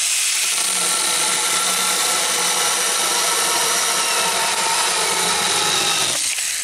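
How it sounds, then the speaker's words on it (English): A chainsaw roars steadily and loudly while cutting a wooden board in half, holding a constant high-pitched whine for about six seconds before cutting off. "You can take our trusty Saker chainsaw"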